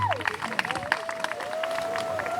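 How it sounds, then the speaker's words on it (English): Wedding guests at a ceremony break into clapping and cheering, a crowd's scattered hand claps mixed with excited voices and babble, fairly close and lively. "Yeah, you can clap your hands."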